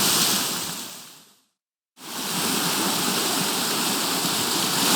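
Steady rushing water from a flowing stream on the GR5 trail, broadband and continuous, with a brief silent gap in the middle before the flow resumes.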